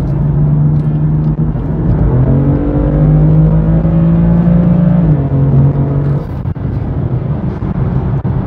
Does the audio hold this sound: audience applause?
no